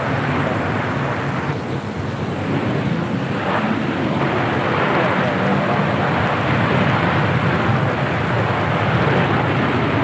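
At LAX a Boeing Dreamliner airliner rolls down the runway, a loud, constant broadband roar mixed with wind buffeting on the microphone, heard from a distance outdoors.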